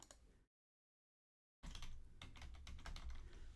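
Computer keyboard typing to rename a folder, a quick burst of close key clicks, a second of silence, then a steady run of rapid keystrokes.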